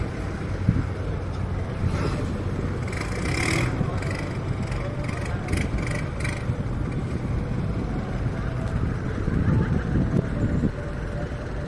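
Loud diesel motorboat engine running steadily on the Chao Phraya River in Thailand, a continuous rumbling drone close by with wind buffeting the microphone throughout.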